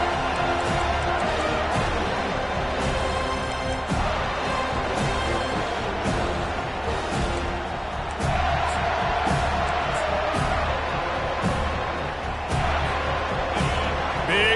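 Stadium crowd noise from a Madden NFL football video game, a steady loud roar rising behind the defense late in a close game near the two-minute warning, with sharp thumps of on-field hits scattered throughout.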